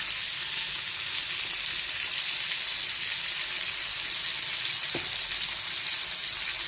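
Fish frying in oil in a pan, a loud, constant hiss and crackle of sizzling oil that holds steady throughout, with one faint knock partway through.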